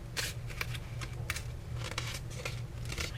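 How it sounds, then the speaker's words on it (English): Paper being creased and folded into a small gift box tote, a series of crisp, close rustles and swishes at irregular intervals over a low steady hum. "we are folding the box"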